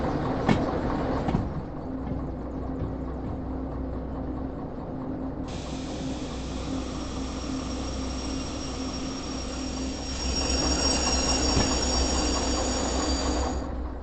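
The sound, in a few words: train running on rails in video game Derail Valley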